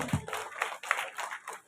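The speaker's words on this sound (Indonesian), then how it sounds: "Tepuk tangan untuk Bapak." A handful of people clap for a man at a ceremony handing over government-funded buildings, with sparse, loosely rhythmic claps of moderate loudness and a soft thump near the start.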